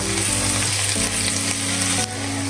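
Crushed garlic and ginger sizzle steadily in melted butter in a pan, a loud, continuous frying hiss with a brief stir partway through and no talking.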